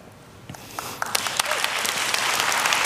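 A church congregation bursts into applause, starting with a few scattered claps and swelling into dense, steady clapping that fills the hall, with some voices faintly mixed in.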